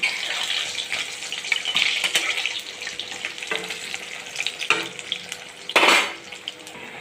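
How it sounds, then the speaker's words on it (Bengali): Pieces of rohu fish fry in hot oil with a close, steady sizzle, joined by clinks of a pan and utensil and a louder hissing burst as the pieces are turned. "এক পিঠ ভাজা হয়ে গেছে, আর এক পিঠ মধ্যে দিলাম"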